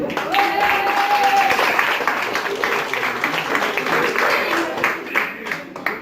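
An audience at a show at a lakeside campsite applauds steadily, a dense burst of many hands clapping that fills the space and thins slightly toward the end, with a few voices mixed in.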